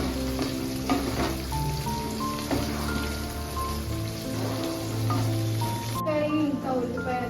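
Drumsticks frying in a pan for tomato curry give off a steady crackling sizzle with patters like rain on a surface, alongside faint tonal background sounds.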